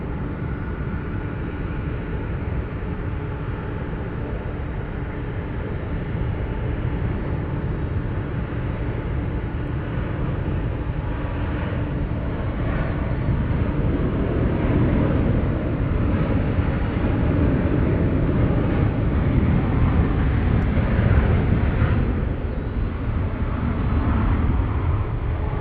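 Heavy jet airliners taxi at San Francisco airport, a steady low broadband engine rumble and roar that swells slightly over the stretch, continuous and fairly distant, with no talk.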